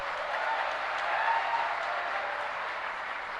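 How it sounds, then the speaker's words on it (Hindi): An audience at a motivational gathering claps for children, a sustained, moderately loud wash of applause that holds steady throughout. "एक बार उनके लिए भी जोरदार तालियां बजा दो।"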